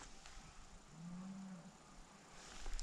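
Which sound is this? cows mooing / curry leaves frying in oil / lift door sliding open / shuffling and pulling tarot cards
cows mooing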